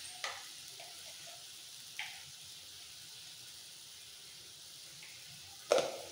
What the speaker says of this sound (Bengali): এবার খুব ভালো করে কষাবো